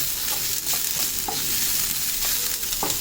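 Minced garlic frying in oil in a pan for a broccoli stir fry, a short close sizzle broken by a few sharp stirring clicks and scrapes.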